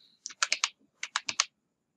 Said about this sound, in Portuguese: Você digita aqui logomarca.